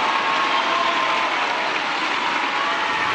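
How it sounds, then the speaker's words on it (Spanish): Applause from a crowd at a Mexican presidential inauguration, a steady, dense wash of clapping that holds at an even level throughout without pause. "El saludo y los aplausos, porque créanme que se lo merece."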